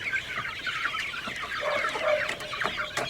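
Several chicks or chickens cluck and peep softly on a farm while being fed greens, a busy cluster of short calls at moderate distance with no talk.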